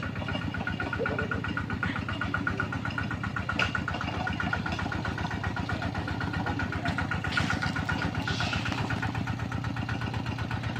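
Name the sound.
engine of an e-taek two-wheel farm tractor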